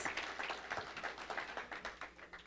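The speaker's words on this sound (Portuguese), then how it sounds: "Um aplauso ao Senhor, a glória." A church congregation claps in praise during a bilingual sermon, a rhythmic, fairly quiet run of hand claps at a steady beat with no voices.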